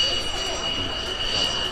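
A toy fighter jet plays an electronic jet-engine sound effect, a steady whooshing roar with a thin high whine, moderately quiet and unbroken throughout.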